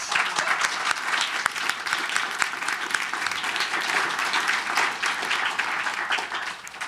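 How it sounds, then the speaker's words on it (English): An awards-ceremony audience gives a warm round of applause, a steady wash of many hands clapping at moderate distance throughout, unbroken by speech. "So I'd like us to give Gary a round of applause."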